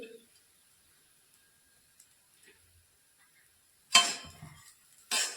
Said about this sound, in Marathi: आणि मसाला आणि कोथिंबीर व्यवस्थित मिक्स करून घ्यायची आणि एक मिनिटासाठी फक्त परतून द्यायची आहे